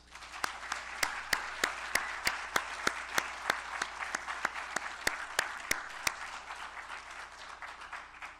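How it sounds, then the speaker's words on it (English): Graduate candidates at a candidacy ceremony and convocation receive applause: a soft wash of crowd clapping with a few sharp, evenly spaced claps standing out close by, thinning in the final seconds. "How about one more round of applause for our candidates?"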